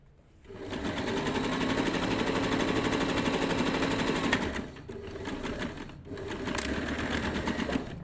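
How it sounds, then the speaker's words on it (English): Sewing machine stitching a seam on summer shorts, a steady close whirring run that pauses briefly twice before resuming. "And continue sewing."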